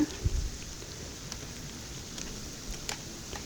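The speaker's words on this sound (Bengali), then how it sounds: "তাই আমি এখন এই তো সবগুলো ভেজে নিতেছি উল্টিয়ে পাল্টিয়ে" Cabbage pakoras fry in oil over a medium flame as they are turned. A soft, steady crackle like light rain plays faintly throughout, with a small bump of noise near the start.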